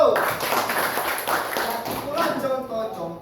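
Students in a middle school classroom clap together in a dense, steady burst lasting a few seconds, with some voices mixed in.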